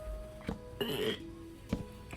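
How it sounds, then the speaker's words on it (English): A short burp sounds during a quiet indoor moment, a brief throaty gulp followed by faint clicks and a small throat noise, close and soft with no talk. "I need to burp quick."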